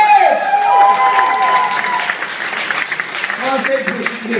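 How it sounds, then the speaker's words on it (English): Audience cheering and applause for the winning band at a Hard Rock Rising 2013 final, a loud crowd roar with shouts and whoops over dense clapping, and voices calling out above it. "give it an applause to ETH!"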